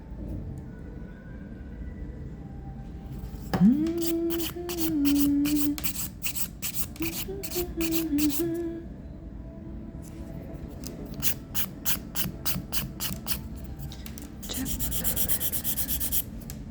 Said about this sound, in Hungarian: ezzel tudok, ugye a két oldalról még tudok reszelni belőle